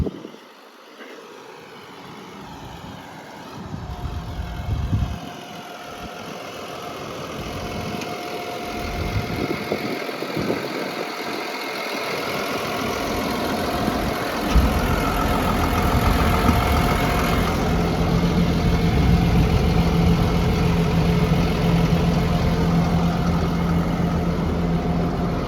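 A Cat D6N bulldozer engine rumbles at idle as the machine is parked, the low drone growing steadily louder and more constant with no voices over it.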